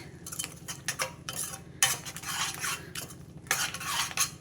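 A spoon scrapes and clatters around a pan of tomato masala gravy for a drumstick curry, a steady rhythm of close metallic stirring strokes over a faint sizzle, with no voices.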